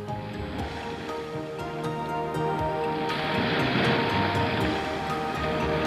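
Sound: sea waves

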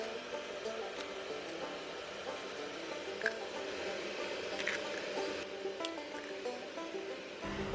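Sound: cracking eggs into a bowl

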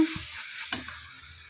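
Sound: coriander powder and turmeric frying on low flame

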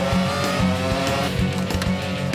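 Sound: cartoon race car accelerating

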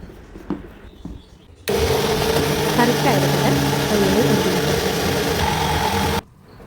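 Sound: mixer grinding coconut with chilli, turmeric, curry leaves, tamarind

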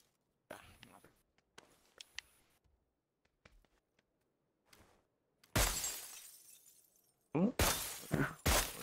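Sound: glass windows shattering from gunfire in PUBG video game

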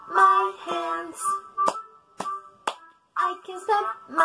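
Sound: hands clapping

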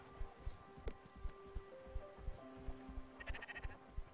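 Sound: sheep bleating in the video game Spiritfarer

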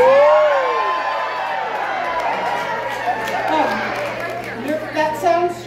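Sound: audience reacting loudly at a retreat presentation

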